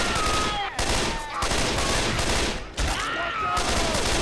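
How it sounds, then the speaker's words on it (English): Dense, continuous automatic gunfire in the zombie shooter Left 4 Dead 2 during a versus match, loud bursts with only brief gaps, close and overlapping, with no talk. "Can we stop shooting each other?"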